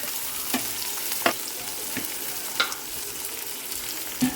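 Chopped onions frying in a pan with cinnamon and cardamom, a soft continuous sizzle broken by a few sharp spoon scrapes and clinks against the pan, close and moderately quiet, no talking.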